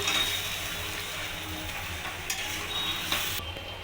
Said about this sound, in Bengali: এবার দইটা ভালো করে মাংসের সাথে নাড়িয়ে নেবো মিশিয়ে দেবো